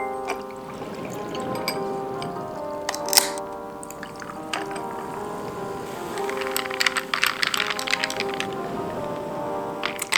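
Watermelon sparkling water is poured into a drink, giving a bubbly fizz and trickle with small crackles and sharp pops from the carbonation, close and fairly quiet, with no voices.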